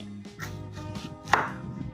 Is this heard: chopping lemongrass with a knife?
yes